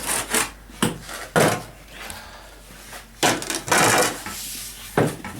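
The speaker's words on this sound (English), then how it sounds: "you mix your sand. You cut it from the front to the back." Sand mortar for bricklaying being cut and mixed with a trowel or shovel, heard as close repeated rough scraping and gritty sliding strokes in an uneven rhythm, no voices.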